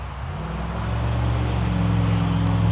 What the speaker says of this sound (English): A lot of background noise here off the highway.